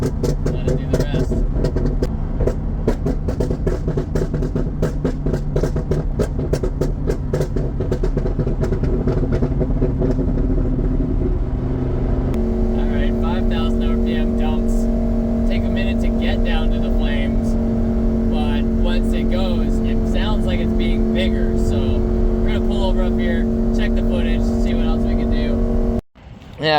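A tuned 670-horsepower Lamborghini Huracan on a highway revs to around 4,000 RPM, then lets off, dropping into a steady drone with crackling pops on the overrun; the sound is loud and close throughout.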